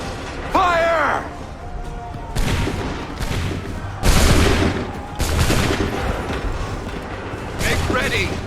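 Musket volleys in Assassin's Creed 3 Remastered crack out as several loud, broad bursts spaced about a second apart, with shouted commands between the shots.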